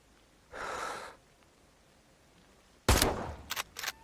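A rifle fires at an animal in the hunting game American Marksman: a breathy rush of air comes first, then after a pause one sharp, loud gunshot followed by two quick fainter echoing cracks.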